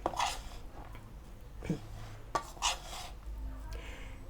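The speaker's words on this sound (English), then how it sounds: "And then you just mix this well so it all mix in." A spoon stirs tuna-less tuna salad in a bowl, giving a few soft scrapes and light clinks against the bowl at irregular moments, quiet and close.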